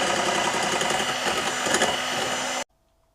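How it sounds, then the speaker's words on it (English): Egg whites for tiramisu are beaten with an electric mixer, giving a steady, loud mechanical whirr for about two and a half seconds before it stops abruptly, leaving near silence with a faint hum. "I'm going to whisk these until they look like meringue"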